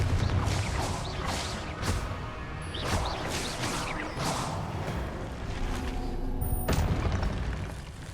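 Confringo blasting spells explode in Hogwarts Legacy combat, a string of booming, crashing bursts that repeat every second or so over constant battle noise, with no talk.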